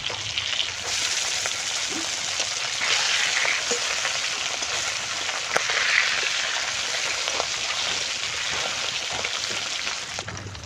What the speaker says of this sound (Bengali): তেলটা গরম হয়ে গেছে, মাছটা ভেজে নেব।